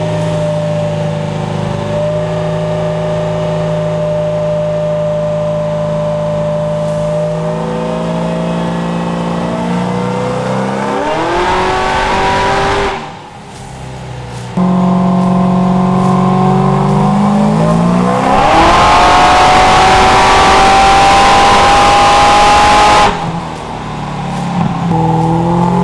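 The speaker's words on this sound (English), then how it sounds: "We're getting the car set up on the dyno." A 900 hp 1969 Camaro running on a chassis dyno, its engine roaring loud and close as it climbs through long revving pulls, dropping briefly to idle before surging again into a harder, higher-pitched wide-open blast.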